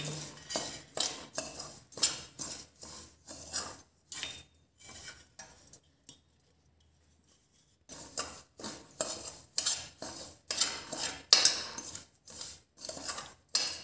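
A spoon mixes coarsely pounded dry-roasted spices and salt for an Indian gooseberry (amla) pickle, giving rhythmic scraping clinks against a bowl that pause briefly midway and then resume at a steady pace.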